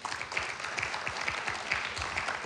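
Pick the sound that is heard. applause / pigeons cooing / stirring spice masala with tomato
applause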